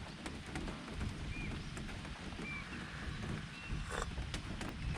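Heavy rain pouring down near an old roadside cafe behind Faisal Mosque, a dense continuous wash of downpour noise with low rumble underneath and a few faint higher chirps and clicks scattered through it.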